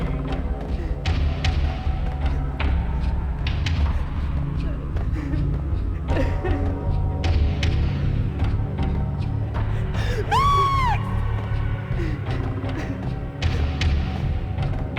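A scream in the Max Payne video game: one drawn-out, wavering cry rises midway through, surrounded by dull thuds, game noise and talking voices.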